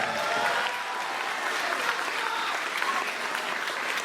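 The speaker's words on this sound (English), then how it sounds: "Oh, you guys didn't have to clap for that." Audience applause at a conference plenary session in Hilo, a steady, dense wash of many hands clapping throughout, moderately loud, with no speech over it.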